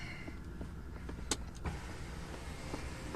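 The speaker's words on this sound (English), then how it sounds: "We got a rear window shade. It's controlled with that button there." Quiet electric whir of the rear window shade motor in a 2016 Mercedes-Maybach S600 cabin, soft and steady with a couple of faint clicks from the control button.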